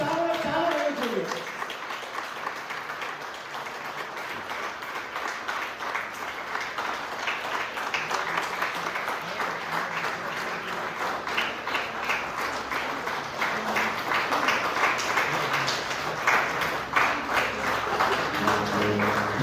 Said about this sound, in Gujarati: શહાદતને આપણે બધા તાળીઓથી વધાવીએ છીએ